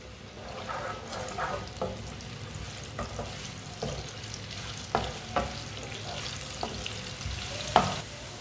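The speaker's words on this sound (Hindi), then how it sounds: "थोड़ा सा प्याज डालेंगे बारीक कटा हुआ। प्याज को ब्राउन कर लेंगे।" Finely chopped onions browning in three spoonfuls of oil in a pan give a soft, steady sizzle, with light stirring scrapes and occasional sharper clinks punctuating the frying noise.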